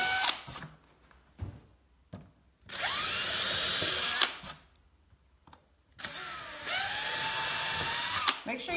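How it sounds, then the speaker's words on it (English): A power drill bores through an old picture frame in two sustained, loud high-pitched whirring runs of about one and a half and two and a half seconds, separated by pauses with brief speech. "Make sure you give yourself something underneath that you can drill into."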